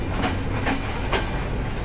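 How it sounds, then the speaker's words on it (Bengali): A night express train rumbles past at close range on the Dhaka–Rajshahi line, a steady broadband roar with rhythmic wheel clacks. "এখানে একটা ট্রেন যাচ্ছে"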